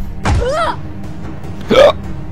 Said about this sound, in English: And a hiccup.